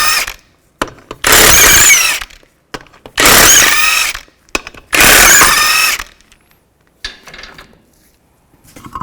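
A power tool with a 19mm socket spins lug nuts off a 2005-2010 Chevy Cobalt wheel. It gives three loud, close whirring bursts of about a second each, separated by short clanks and followed by quieter handling noises.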